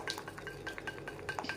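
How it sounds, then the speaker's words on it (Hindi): A spoon stirs microwave-melted white and dark chocolate in a pan, giving a short series of light, close clinks and scrapes at an uneven rhythm. "हम इसको अच्छे से मिक्स करेंगे"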